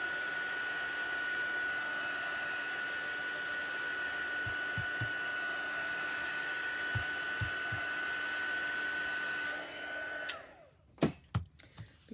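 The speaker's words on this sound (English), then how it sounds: "I'm going to heat it with my heat tool here a little bit" Heat tool blowing hot air over damp stamped ink on a card, a steady, close whooshing hiss held for about ten seconds before it cuts off, followed by a few soft taps.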